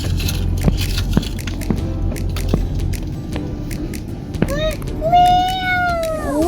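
A child imitates a cat, drawing out a few rising-falling meows near the end after scattered clicks and knocks, with people talking in a vehicle at a safari park.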